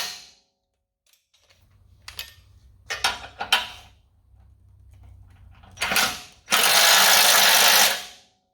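Ratchet clicking in short bursts while bolts are backed out of a Ford Bronco rear bumper bracket during an SFR Sledgehammer rear bumper install, ending in a loud sustained rasp of spinning, nearby and with no talking.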